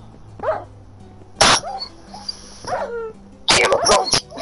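Short dog barks or yelps from a puppy in a Minecraft-style game setting, a few separate bursts spaced across the clip, fairly close with quiet gaps between them.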